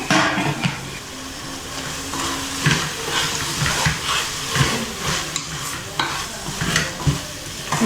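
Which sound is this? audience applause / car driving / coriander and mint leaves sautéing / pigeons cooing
coriander and mint leaves sautéing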